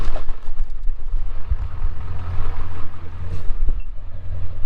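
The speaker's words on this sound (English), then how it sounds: "Now the truck's going to roll forward a little bit." A Ford Powerstroke diesel pickup rolling slowly forward in snow, its deep engine rumble steady and close, with small knocks and creaks over the low drone and no talk.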